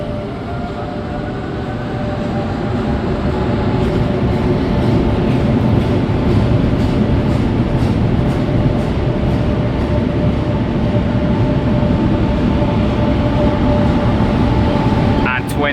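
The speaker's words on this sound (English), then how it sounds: "Here's this one arriving in. Yeah, I think this has got around 10 coaches in it" A train of around ten coaches pulls into Lisbon Oriente station, its steady, loud rolling rumble and rail noise filling the platform throughout, with faint squeals and clatter near the end.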